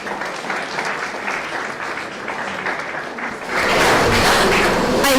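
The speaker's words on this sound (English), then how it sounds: "Our chief Ganesh, please give a round of applause to her" Round of applause from a conference audience, steady clapping that swells noticeably louder about two-thirds of the way through, with no speech over it.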